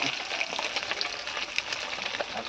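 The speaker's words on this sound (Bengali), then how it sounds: "খুব ভালো করে মাছটা ভাজা করে হ্যাঁ মাছ ভাজা, পুঁটি মাছ ভাজা" Small puti fish fry in a pan with a steady, close crackling sizzle and scattered spitting pops, fairly soft and continuous, with no talking.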